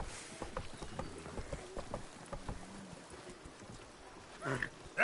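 Roach, the horse in the video game The Witcher 3, clip-clops along with a steady, even beat of hoof strikes at moderate loudness over a soft ambient background.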